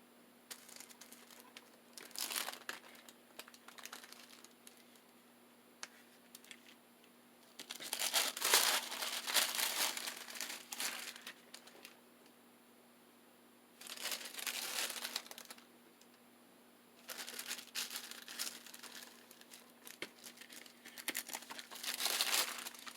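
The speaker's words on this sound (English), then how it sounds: "a piece of wax paper" A sheet of wax paper crinkles and rustles in several close bursts while being handled for a junk journal craft, separated by quieter stretches under a steady low hum.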